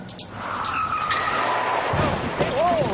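A car brakes hard on a driving course, tires squealing and skidding in a loud, sustained screech that rises and bends near the end, with people talking over it.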